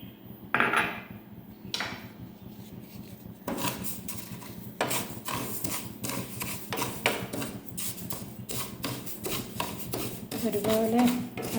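A utensil scrapes and clatters against a pan as ragi is stirred while dry-roasting, giving a quick, busy run of close metallic scrapes and taps that carries on steadily after a brief pause near the start, with no talking.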